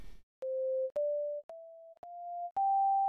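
Synthesizer tone whose volume is chopped by a low frequency oscillator into five pulsing bursts, each step rising slightly in pitch, steady and clean with no voices.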